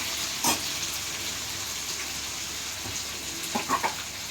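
Liver pieces frying in oil in a pan, a steady soft sizzle throughout with a few brief louder spits and crackles near the start and toward the end.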